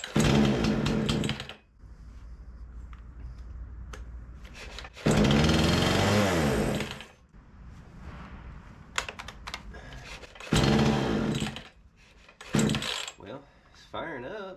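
A Remington 46cc chainsaw with a faulty choke is pull-started, sputtering in loud bursts that fire briefly and die between quieter gaps, the two-stroke engine catching several times close by.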